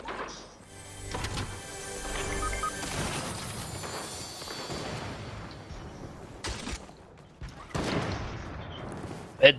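Gunfire in the Fortnite video game: scattered bursts of shots and sharp impacts, some rapid and clustered, others isolated, rising and falling in intensity, with a loud crack near the end.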